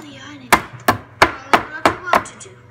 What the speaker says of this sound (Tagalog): Tatakpak lang natin para matanggal yung air bubbles.